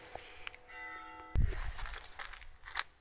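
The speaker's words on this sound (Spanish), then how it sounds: "Qué guay las campanas de mi pueblo, ¿eh? Acompañando el vídeo." Village church bells ring out in the distance, their tones lingering over a quiet background with a sharp knock and some shuffling nearby.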